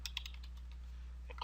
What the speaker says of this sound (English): they can find it here by typing in their user ID